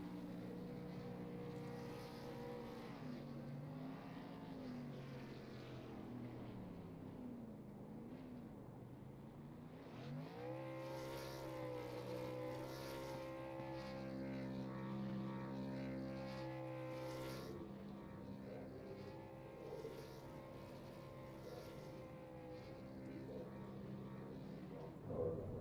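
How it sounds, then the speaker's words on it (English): A race truck burning out at Daytona during a dirt-track iron truck series season opener, a steady, distant engine roar with tire-spinning drone holding for the whole stretch, rising and falling slightly in pitch. "Trying to find that 8 truck as he's still burning it out here."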